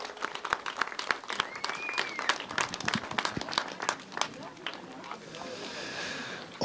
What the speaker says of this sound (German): Bisschen Applaus.